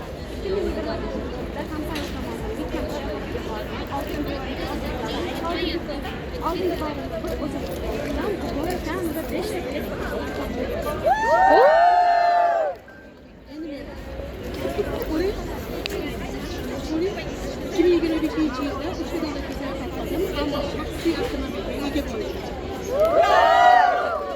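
A crowd chatters and shouts together, loud and lively, with a burst of louder whooping near the middle and again at the end.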